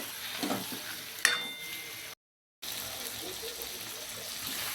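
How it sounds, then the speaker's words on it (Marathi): Fish coated in masala frying in a pan on low gas for a dhaba-style fish curry, with a soft steady sizzle and a few stirring scrapes, broken by a brief gap of silence. "सर्व मच्छी घालून घेणार आहोत आपण, आणि छान फ्राय करणार आहोत कमी गॅसवरच"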